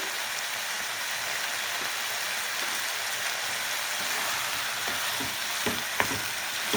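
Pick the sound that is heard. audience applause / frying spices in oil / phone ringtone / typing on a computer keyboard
frying spices in oil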